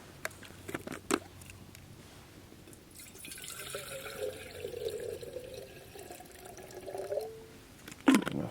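Water poured into a kettle fitted with a paper filter at a hot tent camp, a soft trickling stream building from the middle after a few knocks and clicks, fairly faint and close, with no talk.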